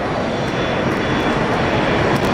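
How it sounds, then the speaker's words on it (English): E-Jet airliner taking off at night at Los Angeles International Airport, a loud, continuous broadband jet engine roar that stays steady and dense throughout, heard from a moderate distance with no voices. "we also got the E-Jet taking off"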